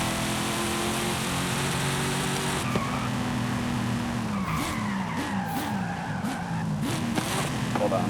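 A Forza Horizon 5 car engine revs and drops, with tires skidding and squealing over a steady mechanical drone and a high whine.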